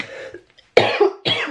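Repeated coughing from a person who is sick, two or three harsh bursts close to the microphone, loud and alone after a short quiet gap, with no talk over them.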